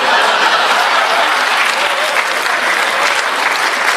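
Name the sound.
audience applause at a mushaira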